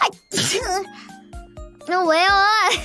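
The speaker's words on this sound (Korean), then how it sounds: "코가 너무 간지러웠었는데 아까 못한 게 재채기가 지금 나왔네" A voice lets out a loud sneeze, followed by several short bursts of talking and laughter, then a long, rising, sing-song spoken exclamation closes the moment.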